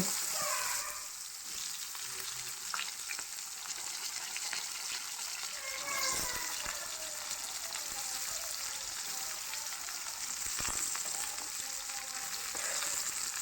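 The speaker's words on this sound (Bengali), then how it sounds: "এরপর আমি দিয়ে কেটে রাখা সবজিগুলো এতে দিয়ে দেব" Cut vegetables for Bengali shukto dropped into oil with fried panch phoron spices, giving a steady crackling sizzle that swells and pops under faint background noise, with no one speaking.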